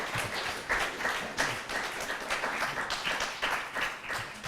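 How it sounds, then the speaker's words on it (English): Audience applause for panelists at the end of a talk on the Internet of Things and human rights, a quiet, continuous patter of many hands heard from a distance. "Let's give our panelists a round of applause."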